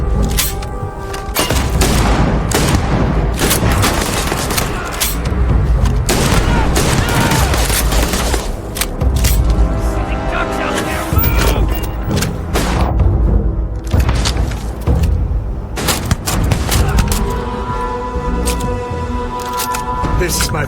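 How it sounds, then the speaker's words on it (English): Sustained gunfire in a Starfield firefight, loud rapid volleys and bursts of shots almost nonstop throughout, with characters shouting over the battle. "Just shoot everything!"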